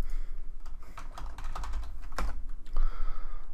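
Keys clatter on a computer keyboard in a quick, uneven run of close keystrokes, with a short pause and then a final burst of typing.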